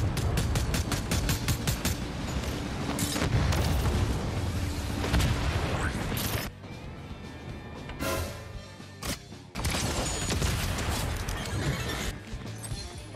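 Rapid bursts of gunfire and booming impacts in a Fortnite match, loud and dense throughout, with a couple of brief lulls before the shooting resumes.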